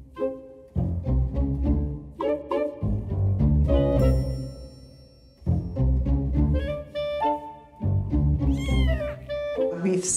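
Several cats meow repeatedly and loudly on a film set for a cat mansion production, overlapping drawn-out calls that rise and fall through the whole stretch.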